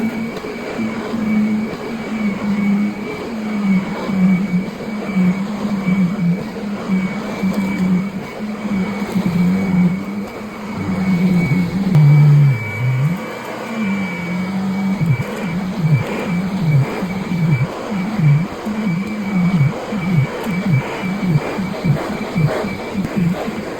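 Bissell carpet cleaner running across a living room carpet, a steady loud motor drone with rhythmic surging as it passes back and forth, no talking.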